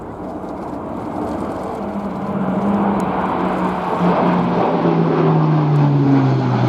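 An Airbus A400M turboprop roars through a flying display at the Royal International Air Tattoo, its propeller drone loud and steady with a slowly falling pitch as it passes, building slightly in the second half.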